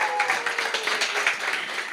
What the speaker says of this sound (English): please give a huge round of applause to all our